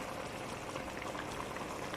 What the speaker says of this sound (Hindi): हमारी जो ग्रीन चिकन बिरयानी है उसका मसाला तेज़ी से अपने मंजिल की तरफ जा रहा है भूनने के लिए